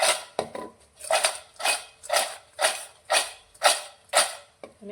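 Fried wheat-flour snack pieces being tossed with spice masala in a metal vessel, heard as a regular series of about nine crisp rattling shakes, close and loud, with no talking.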